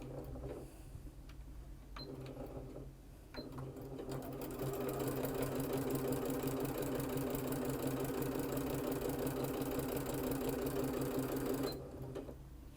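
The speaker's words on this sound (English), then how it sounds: "we're just going to sew that diagonal line to join these two pieces of fabric" A sewing machine stitches a diagonal seam joining two pieces of quilt binding fabric, starting with a few short taps, then running in one steady, close, rapid hum for about eight seconds before stopping.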